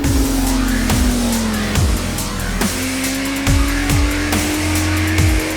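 A motorcycle is ridden hard around the Northampton circuit, its engine droning close and loud with repeated sharp drops in pitch as the gears shift and the revs climb again.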